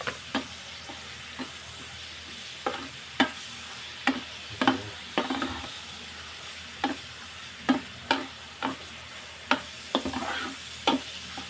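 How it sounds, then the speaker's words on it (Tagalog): Pork fat sautéing in a pan as the base for shrimp paste, with a steady background sizzle and frequent sharp ticks and clacks of a spatula stirring against the pan at an irregular rhythm. "Igisa ko muna tong baboy"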